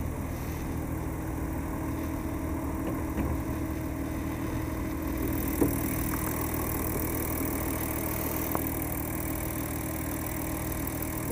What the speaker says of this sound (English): This engine is a V6